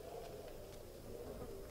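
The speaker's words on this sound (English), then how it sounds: "I should bring that bug spray with me so I can get rid of the buzzing flies" Flies buzzing in the video game Submerged, a steady, faint droning hum that continues without a break and stands alone.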